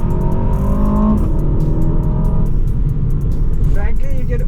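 A 2022 Aston Martin DBX 707 engine revs hard under acceleration on a narrow road, a loud rising note with gear changes that carries steadily throughout without pause.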